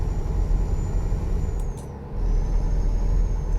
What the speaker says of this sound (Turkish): Toprakta fren yaptığınızda biraz daha değişik bir ses geliyor